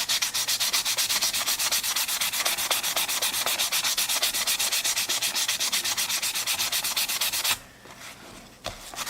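Hand sanding on the wooden body of a Martin guitar, a loud close rhythmic scrubbing with fast even back-and-forth strokes that keeps going for several seconds, then stops near the end, leaving a couple of light rubs.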